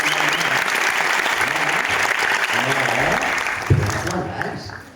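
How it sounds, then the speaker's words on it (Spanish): Loud, dense applause from a large festival audience welcoming guests onstage, steady for about four seconds before tapering off, with a few voices mixed in. "Vamos a recibirlos con un fuerte aplauso."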